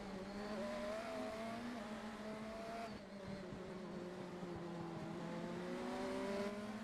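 Race car engines in the iRacing simulator at Sebring hold a steady, loud high-revving drone with shifting pitch bands as a faster car closes on a slower class car, with no talk.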